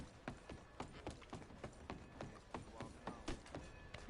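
Horse hooves clip-clop in a steady trotting rhythm in Red Dead Redemption 2, each strike clear and fairly close, with quiet background ambience.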